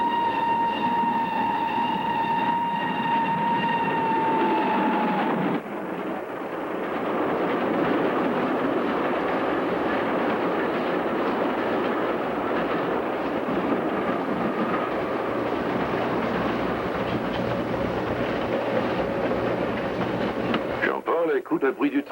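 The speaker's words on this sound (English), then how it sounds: "listen to the train" A train rumbles steadily along the rails, loud and close, with a clickety-clack rhythm and a brief whine fading early on.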